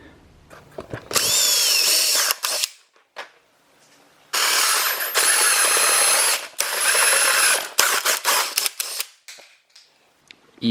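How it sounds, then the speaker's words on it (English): A power drill bores a hole through a car bumper in loud, close, high-pitched whirring bursts of a second or more, separated by pauses and light handling clatter. "I am gonna drill a hole in it"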